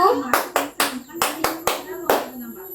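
Children standing in rows in a classroom clap together in an ice-breaking counting game, sharp unison claps falling in short grouped bursts with brief pauses between, close and crisp over a quiet room.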